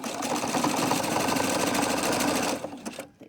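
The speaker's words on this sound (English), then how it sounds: "I start sewing, I go back, and continue sewing." A sewing machine stitching a 1 cm seam on a fabric shopping bag, a close, steady rapid mechanical chatter for a few seconds that then slows and stops.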